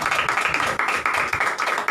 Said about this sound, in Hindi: जितने लोग आनंदित हैं सब लोग प्रभु के लिए तालियां बजाएं